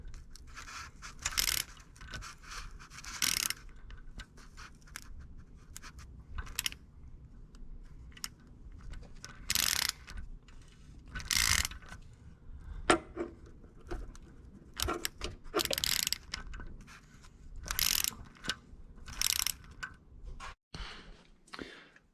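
A ratchet working a bolt back and forth on a Ford 6.7 Powerstroke diesel engine, giving repeated bursts of quick metallic clicking separated by short pauses.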